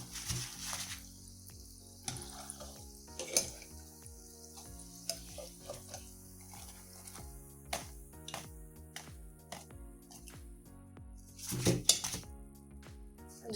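Vada pav potato patties frying in hot oil, a steady close sizzle broken by clinks and scrapes of a pan and utensils as the crisp patties are lifted out, with no talking.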